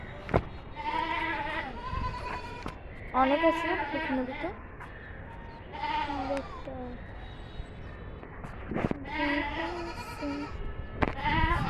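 A goat on a rooftop bleats repeatedly in several quavering calls spread across the stretch, close by, mixed with brief talk from a nearby person.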